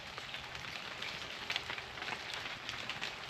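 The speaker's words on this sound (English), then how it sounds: "It sounds like it's raining, but it's just the fog condensing into drops and falling to the ground." Fog condensing on the leaves of large trees along a wooded nature trail and dripping to the ground, a dense, continuous patter like light rain with scattered sharper drops, steady and close, with no voices.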